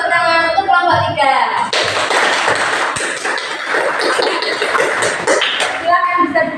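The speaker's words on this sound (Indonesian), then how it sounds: "beri tepuk tangan untuk kelompok 3" Classroom audience clapping for a group after its presentation, a burst of brisk, fairly close handclaps that starts after a voice and fades as speech resumes near the end.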